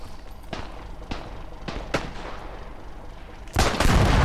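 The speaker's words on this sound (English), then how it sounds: "who was shooting at me?" Gunfire in the World War I trench shooter Beyond The Wire: several separate loud shots spaced about half a second apart, followed by a heavier sustained burst of firing, with no speech.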